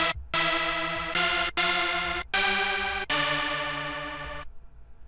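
A rave-style lead synth built in Reason from three detuned pulse-wave oscillators, spread across octaves, plays a loud, buzzy series of sustained notes. The notes come in short and long bursts, separated by brief gaps, before a fading tail.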